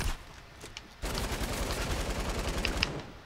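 Rapid gunfire rattles in Fortnite, a dense continuous burst of shots starting abruptly after a quieter second and running to the end, with a few sharper cracks near the close.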